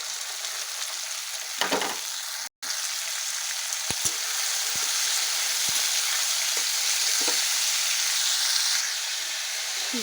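Potatoes and carrots stir-fry in a pan with a loud, continuous sizzle, punctuated by a few sharp clicks and scrapes of a spatula against the pan.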